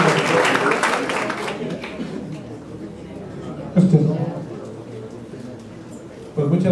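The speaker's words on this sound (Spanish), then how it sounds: "De nuevo, por favor, un fuerte aplauso para nuestro disertante." An audience at a lecture applauds, a dense wash of clapping that starts strong and tapers over a couple of seconds, followed by someone speaking with brief murmurs from the room.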